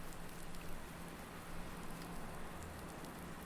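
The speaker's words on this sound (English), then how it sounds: "here we are on midsummer on a very rainy day" Rain falling on a midsummer day in the video game Farming Simulator 19, a steady, even patter of raindrops on surfaces, continuous and moderately loud with no voices.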